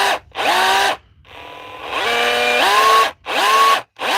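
Hilti or Dewalt hammer drill running in rotary mode with no hammer action, several loud bursts of whining motor that rise in pitch as it spins up, separated by short pauses.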